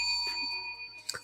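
A bell sound effect rings out with a sustained, bright metallic tone, a short strike sounding near its end over faint background.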